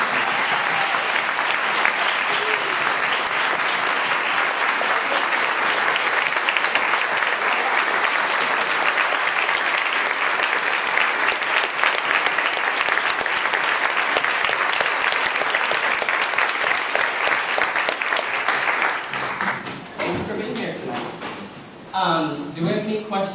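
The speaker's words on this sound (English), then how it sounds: "I just want us to give a round of applause" A large audience at a transgender community program applauds loudly and steadily for about nineteen seconds, then the clapping fades out as a voice begins speaking.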